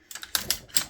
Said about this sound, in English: Place that pin back in